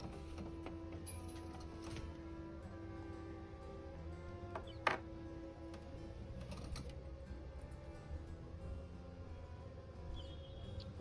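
Clicks and small plastic knocks as print heads are removed from an HP Smart Tank 580 printer, faint and close, with one sharper snap over a low mechanical hum.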